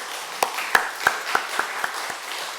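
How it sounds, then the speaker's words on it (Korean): A church congregation offers applause of glory to God, mostly slow, sparse claps, about seven distinct sharp hits spaced evenly over a soft background, fading slightly toward the end. "하나님께 영광의 박수 돌려드리겠습니다"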